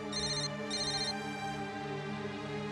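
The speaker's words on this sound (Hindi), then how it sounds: "अरे ये मोबाइल फोन ऑफ कर देना, कृष जाग जाएगा।" A mobile phone rings in a quiet indoor room. It plays a melodic ringtone, a tonal chime that repeats in two short bursts over a sustained tone, at moderate loudness and with no talking.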